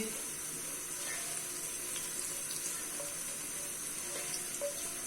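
Cumin seeds frying in hot oil with ginger and garlic for beetroot rice, a steady, close sizzle that hisses evenly like running water the whole time, with faint scattered pops.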